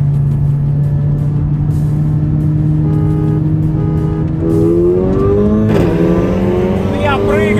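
A tuned diesel Audi A6 BiTDI with Stage 3 work, rated 470 hp, pulls hard in a drag race against a BMW 530d G30, its engine note climbing steadily through the gears, loud and close, with a voice speaking over it.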